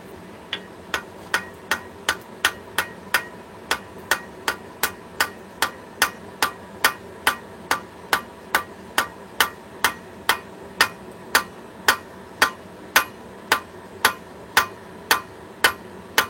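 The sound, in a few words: hammer striking metal on an anvil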